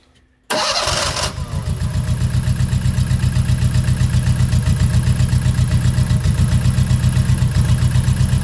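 A Fiat 850 Spider engine cranks briefly, catches, and settles into a loud, close, steady idle with an even rhythmic pulse of firing strokes.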